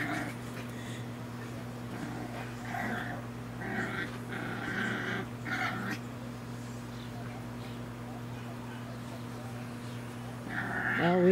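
Soft puppy whimpers and little yips come and go over a steady low hum, with quiet scuffling of play in between.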